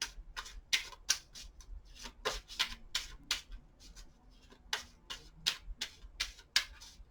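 Tarot cards are shuffled and handled in quick, close, dry flicks and riffles, a rapid irregular run of soft papery snaps with no talking.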